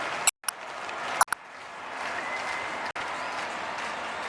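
A stadium crowd at a Sweden versus Wales football match roars and applauds after a goal, a dense, loud wash of cheering and clapping broken by a few brief cuts.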